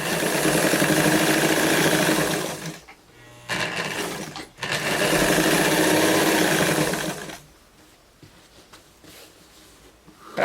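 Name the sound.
sewing machine topstitching jeans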